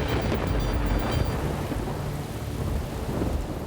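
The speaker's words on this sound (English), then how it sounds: "we started to hear a little rumble in the background" Thunder rumbles from a storm building high on a volcano during a mountain expedition, low and continuous with rain and wind noise, heard at a distance with no voices.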